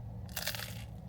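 A single crisp crunch as someone bites into sourdough toast topped with banana, honey and cinnamon, one short, close bite heard alone.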